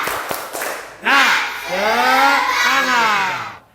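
Schoolchildren in an Indonesian primary classroom shout a loud spirit chant together, their rising and falling voices in unison for a few seconds, with a brief rhythmic clap burst at the start.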